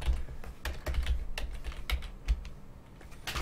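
Rapid, uneven clicking of keys on a computer keyboard, close and clear, with short bursts and brief pauses and no voices.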